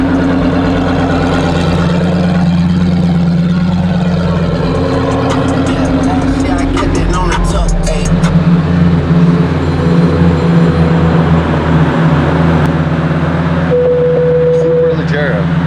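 A 2008 Lamborghini Gallardo Superleggera engine runs close by, a deep steady idle with a brief blip in the middle, while voices talk over the rumble throughout.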